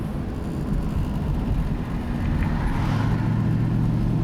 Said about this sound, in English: the car glides through it beautifully